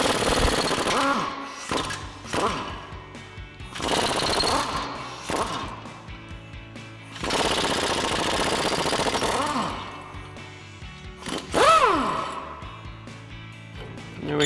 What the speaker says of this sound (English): remove our U-bolt nuts using our 19mm socket on our impact